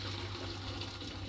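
Water pouring into a cooking pot in a home kitchen, a steady dense rushing splash running throughout, close and fairly loud, with no voices.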